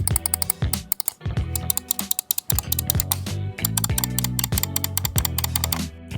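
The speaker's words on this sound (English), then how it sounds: "They seem to have slightly different sounds on the left and the right button, which I think is totally fine. Let's check the other buttons as well." An Attack Shark R1 gaming mouse has its buttons clicked over and over, crisp sharp clicks in quick irregular runs, close and loud with no talk.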